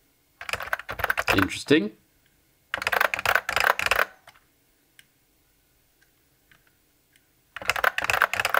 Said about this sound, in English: press keys on the keyboard